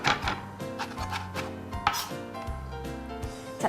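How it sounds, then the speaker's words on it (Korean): Kimchi is finely minced with a knife on a cutting board, giving rapid, close, irregular chopping taps in quick bursts with brief pauses. "김치는 이렇게 다져주세요."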